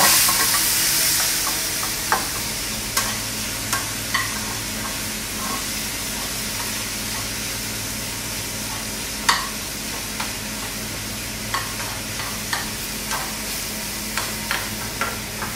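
Chicken cooking in a pan, a steady low sizzle and bubbling with repeated light clicks and taps of a utensil against the pan.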